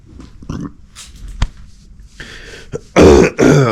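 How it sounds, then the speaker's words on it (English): A man who is sick and congested clears his throat several times, with short guttural rasps and a sharp cough-like burst, ending in two loud, rough throat-clearing blasts up close. "A lot of clearing my throat."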